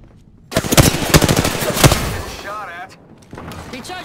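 Loud, close automatic gunfire from the Apex Legends video game rattles in rapid bursts for a couple of seconds, then trails off into softer game effects.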